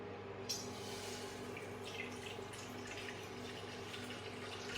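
Water trickling from a tap, added drop by drop while preparing a paan leaf remedy, a soft continuous running sound with a faint splash near the start, heard alone in a kitchen setting.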